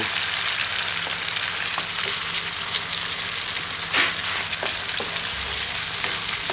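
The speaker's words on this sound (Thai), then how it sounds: "พอใส่พริกแกงแล้วก็ผัด" Red curry paste stir-fried in coconut cream that has split its oil, a loud, steady close sizzle with occasional scraping stirs and light taps of the utensil.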